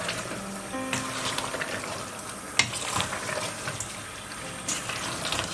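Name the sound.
stirring chicken mirch mastani frying in pan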